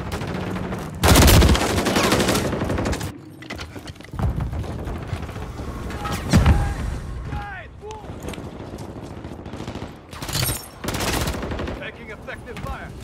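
Automatic gunfire rattles in close bursts during a Call of Duty: Modern Warfare III multiplayer match on the Highrise map, loud volleys separated by quieter stretches of footsteps and weapon handling, with game voice callouts heard.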